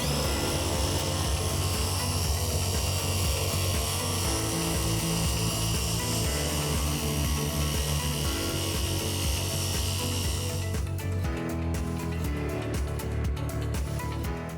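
A RUPES Bigfoot iBrid Mini polisher runs steadily at speed 3 or 4 with a RUPES pad and polishing compound, a loud continuous whir that cuts off sharply near the end, leaving quieter handling noise.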